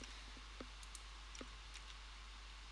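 Mouse clicks on a computer during 3D rendering work in Maya, a few sharp, faint clicks scattered across a quiet background.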